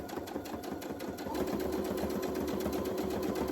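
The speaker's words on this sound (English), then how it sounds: "I'm going to sew this on my 1/4 inch seam allowance." Sewing machine stitching layers of a fabric coffee cup cozy at a quarter-inch seam, a fast steady mechanical whir and rhythmic needle chatter, close and continuous.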